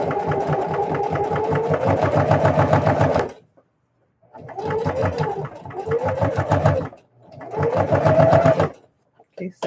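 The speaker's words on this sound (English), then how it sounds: "settle nicely as you sew" An electric sewing machine stitches fabric for a Christmas bucket, a loud, rapid mechanical whir heard close up in three bursts separated by short pauses.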